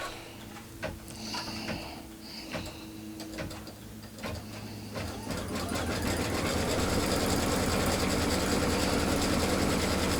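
Sewing machine stitching a fabric basket: a few handling clicks and taps, then the motor starts into a steady, fast mechanical whir of stitching that runs continuously to the end.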